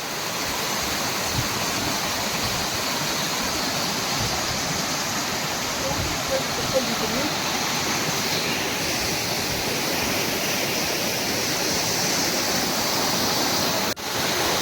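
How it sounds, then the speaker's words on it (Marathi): Mountain spring water rushes steadily nearby, a loud continuous broadband splash and gurgle that holds its level throughout, with a brief dip near the end. "तर हे झऱ्याचं पाणी आहे"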